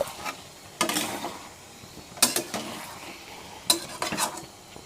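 Pumpkin pieces being added to a duck curry and stirred in a pot: three distinct bursts of scraping and clattering utensil strokes over a quiet, faint background sizzle.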